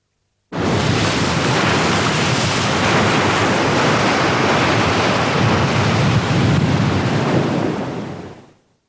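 Steady roar of sea waves breaking continuously, a broad rushing wash with no talk, fading out at the end.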